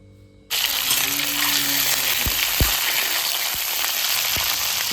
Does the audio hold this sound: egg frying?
yes